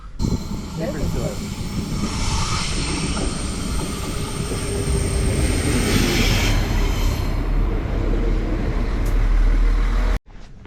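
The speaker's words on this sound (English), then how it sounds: "here comes the train right now" A train rumbles into a station in Vienna loudly, steady rail noise and wheel screech building over several seconds before cutting off abruptly.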